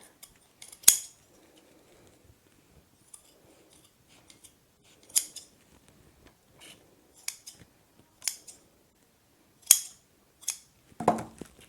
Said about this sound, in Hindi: ये सारे हमारे जो अनइवन एंड्स है ना, हम इसको यहाँ काट देंगे